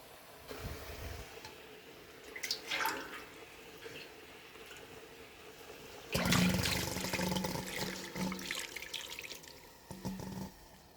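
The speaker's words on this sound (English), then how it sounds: "So I'm gonna get some water and wash this right out and throw it on my pork." Water is poured into a basin to rinse out leftover jerk seasoning for pork: a few light splashes and trickles, then a sustained rushing pour that tapers into dripping, with no one talking.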